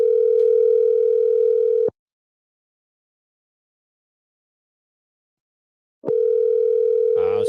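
A steady telephone dial tone sounds loud and close while a call is being placed. It cuts out into several seconds of silence, then returns, with a short warbling tone at the end.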